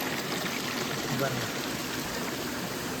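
Water stream flowing steadily at a hillside trekking spot in Vagamon, a constant close rushing wash that runs throughout while a person talks briefly over it.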